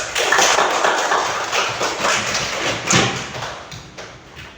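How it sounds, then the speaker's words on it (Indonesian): Schoolchildren clap together in a classroom at the end of a lesson, a dense, fairly loud burst of overlapping hand claps that runs throughout and slowly thins toward the end. "Beri tepuk tangan dulu."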